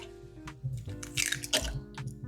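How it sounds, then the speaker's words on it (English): Two eggs are added to a bowl of warm milk and water with dissolved yeast: a close series of soft wet plops, drips and squishy splashes at an irregular rhythm. "I'm also gonna go ahead and add in 2 eggs."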